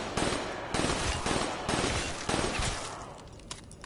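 Rapid bursts of gunfire from a Call of Duty Zombies match, several loud volleys in quick succession with brief gaps between them, fading toward the end.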